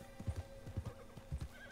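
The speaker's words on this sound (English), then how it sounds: "Let me get near my horse." Horse hooves clip-clopping in Red Dead Redemption 2, a few close, distinct paired hoof strikes in an uneven walking rhythm, with no talk over them.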